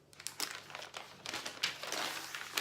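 A cut-out paper collar pattern is unfolded close by, giving soft crinkling and rustling bursts of paper handling that come and go quietly.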